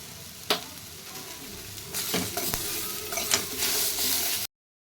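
Avarekalu (field beans) dry-roasting in a pan, a steady close rustling sizzle with a few sharp clicks and scrapes as the beans are stirred and shifted, getting a little busier toward the end.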